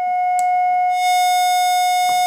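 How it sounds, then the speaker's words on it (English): A steady, pure sine wave tone from a Buchla Music Easel synthesizer hums at one pitch throughout, with a bright buzzy overtone layer joining partway and faint clicks around it. "we're on a sine wave"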